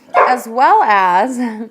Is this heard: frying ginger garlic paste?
no